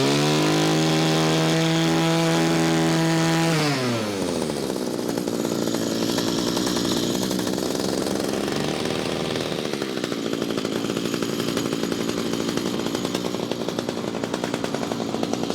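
Small two-stroke engine of an Echo string trimmer with a gas leak, revving up then settling into a steady, loud buzzing run with a slight metallic chingy rattle, no talking.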